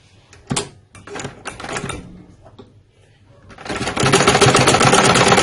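A sewing machine stitching over a folded seam on a kameez daman, preceded by a few handling knocks and clicks, then a loud, steady close-up mechanical whir that runs to the end.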